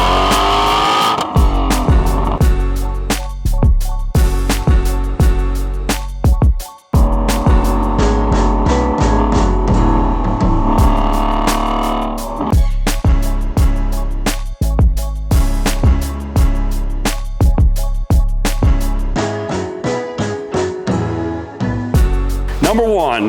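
A 2017 Ford Shelby GT350R drives down the road, its engine revving and dropping repeatedly through gear changes, loud and close, with a brief cut-out partway through.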